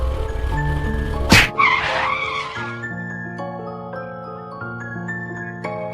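A cartoon motorbike braking suddenly: a sharp hit, then a loud tire-squeal skid that trails off into sustained tonal background music.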